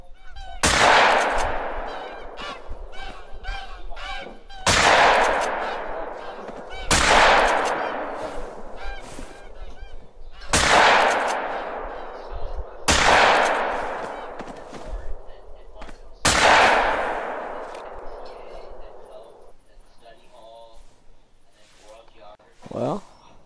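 Six loud shotgun blasts from a goose hunt ring out at spaced intervals, each with a long decaying echo, while geese honk and hunters talk between shots.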